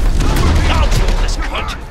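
Gunfire in the Cyberpunk 2077 street-kid story, a loud rush of shots and booms over a couple of seconds, mixed with voices shouting in the fight.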